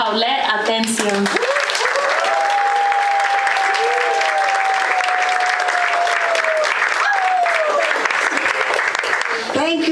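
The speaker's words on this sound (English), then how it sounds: "Let us give a round of applause to our master storyteller, Paulette Atencio." An audience applauds a master storyteller at an evening event. The clapping is loud and sustained, and a voice speaks over it at the start and again near the end.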